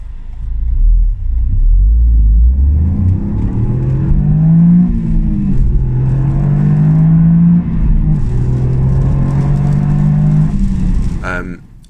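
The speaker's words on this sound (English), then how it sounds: "I'm going to start off with a pull up to third gear, and it got there really, really quick" Toyota GR Yaris accelerating hard up to third gear, the engine note climbing loudly through each gear with brief dips at the shifts, heard from inside the car for nearly twelve seconds.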